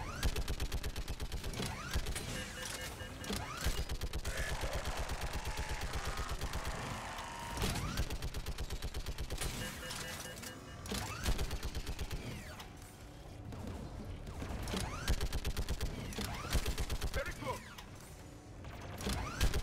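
Turret gunfire in Mass Effect Legendary Edition rattles in rapid, sustained mechanical bursts with brief pauses, mixed with clanking game effects and occasional voices talking underneath.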